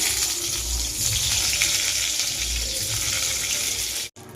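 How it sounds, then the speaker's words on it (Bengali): Eggplant slices fry in hot oil in a kadai, giving a steady, close sizzle and bubbling that runs without a break until it cuts off sharply near the end. "কড়াইয়ে তেল দিয়ে দিয়েছি, তেল গরম হয়ে গেছে। এবার একটা একটা করে বেগুনগুলো দিয়ে দেবো।"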